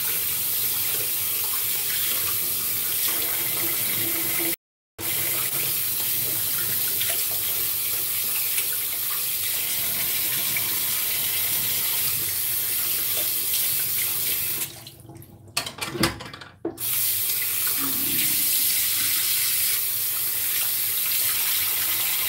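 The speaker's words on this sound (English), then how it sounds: "rinse my face off in my hand" A bathroom faucet runs in a steady close hiss as someone rinses their face from cupped hands, with a momentary cutout early on and a few splashy interruptions near the end.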